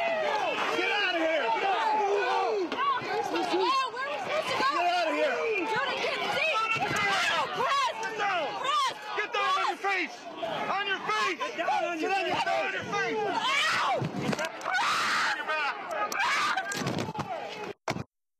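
Street protest with riot police making an arrest, a woman's screams rising over a loud, chaotic crowd of shouting voices and running footsteps, with bangs and scuffling near the microphone.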